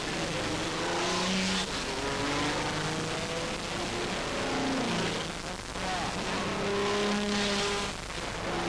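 Several race car engines, including an Alfa Romeo Alfetta, drone and rise as cars pass at a distance on a warm-up lap, with faint speech mixed in beneath the steady motor noise.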